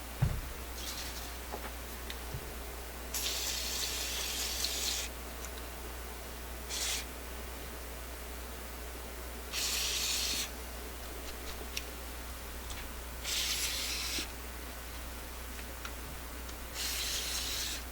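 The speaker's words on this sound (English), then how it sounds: "time for a dosing of WD-40" Several short hissing WD-40 aerosol spray bursts, each a second or two long, onto a Garrard RC121 MKII turntable, separated by quiet pauses over a steady low hum.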